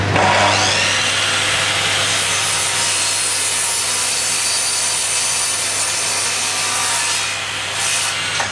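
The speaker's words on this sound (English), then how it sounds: "I'll put a piece of oak on the bed and cut it" A chop saw rips steadily through a piece of oak, its whine holding loud and unbroken at close range, with a faint drop near the end. A dust extractor is running.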